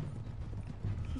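Horse hooves pounding at a gallop in the Red Dead Redemption 2 video game, a steady loud rumbling rhythm of hoofbeats with no clear speech.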